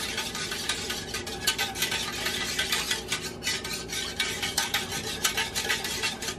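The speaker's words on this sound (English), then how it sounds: "now we're going to whisk this all together so it's nice and incorporated." Coconut cardamom ice cream mixture being whisked by hand in a bowl, a steady busy clatter of metal whisk strokes against the container, close and continuous, with no talking.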